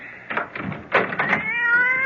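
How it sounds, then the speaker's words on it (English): A cat meows loudly and close up in a horror radio drama, giving a rapid series of drawn-out wails that end in a rising, sustained caterwaul. "that damn cat!"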